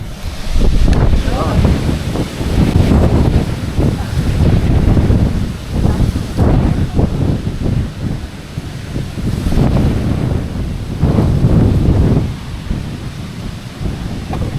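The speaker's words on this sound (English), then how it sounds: "it's blowing the trees right now" Strong wind gusts batter trees around a van parked in Greece. Loud, rumbling surges of wind rise and fall in waves against the microphone, with faint voices in the background.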